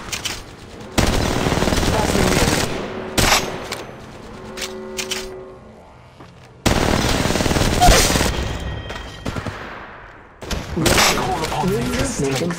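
Gunfire in the video game Apex Legends, loud bursts of rapid automatic fire and single shots with echoing tails and gaps between volleys, mixed with game effects and a voice.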